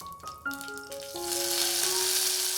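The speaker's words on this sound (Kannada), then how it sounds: "ಎಣ್ಣೆ ಕಾದ ನಂತರ 1 ಟೀ ಸ್ಪೂನಷ್ಟು ಸಾಸಿವೆ, 1/4 ಟೀ ಸ್ಪೂನಷ್ಟು ಇಂಗು, 2 ಒಣಮೆಣಸಿನ್ಕಾಯಿ, ಸ್ವಲ್ಪ ಕರಿಬೇವು ಸೊಪ್ಪು" Mustard seeds, asafoetida, dried chillies and curry leaves hit hot oil, building from light crackles into a steady, loud sizzle with a few sharp tones near the start.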